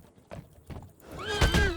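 A horse in Red Dead Redemption 2 gives a loud, close whinny after a few hollow hoof clops, all within about two seconds and with no voices.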